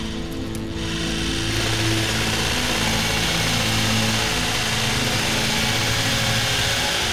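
A power drill runs continuously at a steady, loud whine with a droning motor underneath, close by and unbroken.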